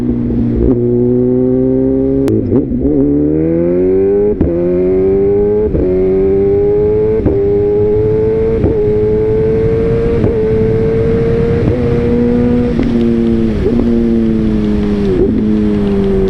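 Motorcycle with a flame-shooting exhaust revving loudly up close, a strong engine drone rising in pitch, broken by sharp pops and crackles from the exhaust, with no talk.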